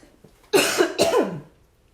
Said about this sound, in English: Give me a second. I need to cough.